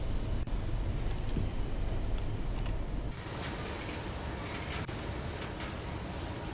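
A Class 31 diesel locomotive in Train Sim World pulls away in a steady low drone whose tone shifts midway as the engine note changes, heard alone and fairly close.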